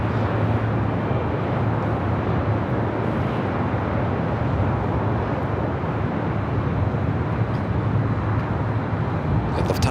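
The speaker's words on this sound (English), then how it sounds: "The Lufthansa A350 heading to the south side will be arriving on 25 left." Lufthansa Airbus A350 jet arriving to land on runway 25 left at Los Angeles airport, a steady broad engine roar at moderate distance, continuous and unchanging with faint background rumble.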